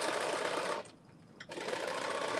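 A sewing machine topstitches a McCall's M8208 garment, whirring rapidly and close, pausing briefly for about half a second and then resuming at the same steady speed.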